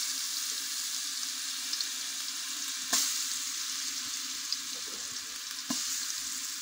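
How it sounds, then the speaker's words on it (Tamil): Country chicken curry tempering in hot oil sizzles in a steady, loud hiss, broken by a few sharp clinks of stirring against the pan. "இப்போ எண்ணெய் ஊற்றிட்டோம், கறி வந்து தாளித்து விட்ருக்கேன்."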